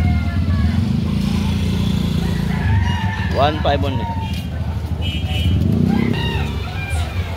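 A brood stag rooster, a white kelso, crows once amid a busy Cebu City street market, its rising call cutting through a loud constant drone of engines and motorcycles while someone talks nearby.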